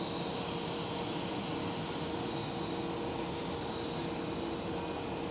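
A KLM Boeing 747 airliner at Amsterdam Schiphol gives a steady, broadband jet roar that holds at even loudness throughout, a continuous wash of engine noise close by with no talk over it.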